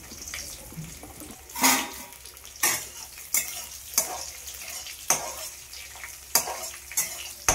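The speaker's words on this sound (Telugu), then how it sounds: "అందులోనే కొద్దిగా ఎండుమిరపకాయలు, వెల్లుల్లిపాయ రెబ్బలు వేసుకొని వేయించుకోవాలి." Dry red chillies and garlic cloves fry in a pan under a low hiss, punctuated by repeated loud scraping strokes of a utensil stirring, about eight sharp bursts at irregular intervals.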